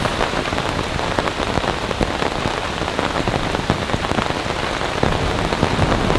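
Heavy rain pours steadily during a severe thunderstorm at a campsite, a dense, loud, continuous hiss of drops drumming on a surface throughout, with no talking.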